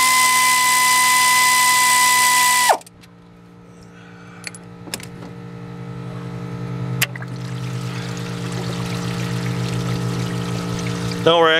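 Engine coolant from a 2002-2009 GMC Envoy water pump job pours into a drain pan, a strong steady stream that suddenly cuts off, then a quieter trickle and a few metallic knocks follow.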